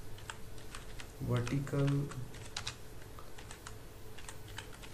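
Keystrokes clatter on a computer keyboard in quick, uneven bursts while someone speaks over them at a desk, the typing close and clear throughout.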